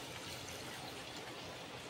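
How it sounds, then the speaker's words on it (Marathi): Water is poured into a pot of chicken biryani in a home kitchen, giving a steady, soft, continuous gushing sound without a break. "आता टाकते मी पाणी।"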